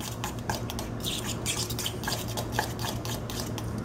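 Fork stirring homemade ranch dressing in a bowl, a soft steady scraping and clinking of metal against the dish with a low hum running underneath, no talking.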